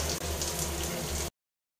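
Water runs steadily from a traditional wash basin mixer tap at a summer cottage with a DIY solar hot water system, a close continuous hiss that cuts off abruptly after about a second and a half.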